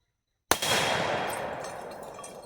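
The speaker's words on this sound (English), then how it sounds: "the 44 mag is quite a pop" A single loud gunshot from a factory-engraved Colt Anaconda .44 Magnum revolver with a 6-inch barrel bursts out of silence, then a long reverberant decay trails off.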